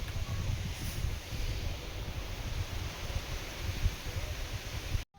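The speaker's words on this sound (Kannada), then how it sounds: "ಗಾಳಿ ನೋಡಿ ಸಿಕ್ಕಾಪಟ್ಟೆ ಗಾಳಿ ಹೊಡಿತಾ ಇದೆ" Strong wind blowing across an open vegetable field, a steady rough broadband rush with low buffeting rumble on the microphone, continuous and fairly loud throughout, with no speech.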